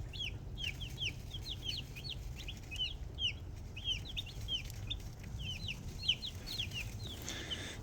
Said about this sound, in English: Little tiny baby meat chicken.